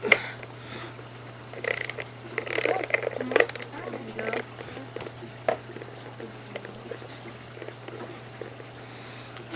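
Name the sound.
ratchet socket wrench turning a bolt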